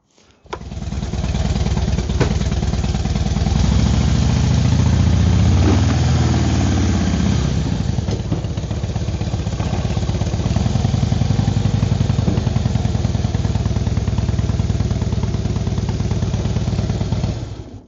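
A motorcycle engine runs loud and close throughout as the bike is ridden up a Harbor Freight folding loading ramp into a WheelDock, with the throttle swelling briefly near the start and then holding a steady rumble.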